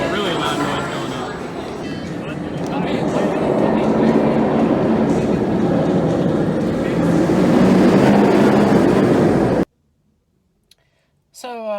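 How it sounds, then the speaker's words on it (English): A Wildcat roller coaster train at Hersheypark climbs the lift hill with a loud, grinding mechanical rumble and rattling clatter building over several seconds, then cuts off abruptly into near silence. "that train made a really loud noise going up."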